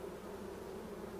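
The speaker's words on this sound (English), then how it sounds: "Takes a special eye to notice where the bees are." Honeybees inside a beehive box make a steady, soft, continuous buzzing drone throughout, with no voices.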